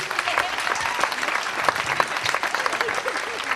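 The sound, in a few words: audience applause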